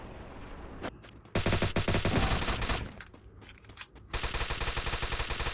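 Bursts of automatic gunfire from the battle royale game Free Fire, dense rapid volleys that start and stop in loud clusters, with a steady stream of shots running through the final seconds.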